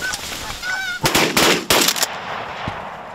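Geese honk during a goose hunt over a silage corn field, a few nearby calls early on, then loud shotgun blasts and a noisy burst of gunfire that nearly drown them out.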